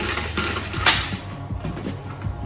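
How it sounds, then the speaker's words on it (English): The handle of a plastic pull-cord kitchen chopper is tugged a couple of times while making brownies. Close whirring and ratcheting clicks are heard, with one sharper burst near the start. "a couple of pulls of the handle"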